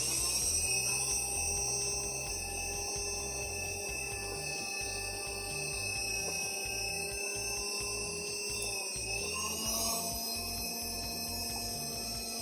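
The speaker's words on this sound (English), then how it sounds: "I am going to grind away some of the excess solder." A grinder removes excess solder with a steady, high-pitched whine throughout, its pitch dipping briefly near the end before it picks up again.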